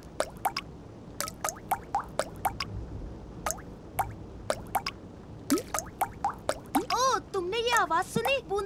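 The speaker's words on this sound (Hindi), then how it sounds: "चलो साइमन जल्दी से ये बाल्टी टपकते छत के नीचे रखो" Water drips from a leaking roof into a bucket in a children's cartoon, a string of sharp, separate plinks spaced unevenly, with brighter musical drop tones and a busier run of drips toward the end.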